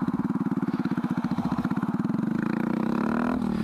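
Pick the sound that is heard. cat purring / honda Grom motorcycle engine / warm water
honda Grom motorcycle engine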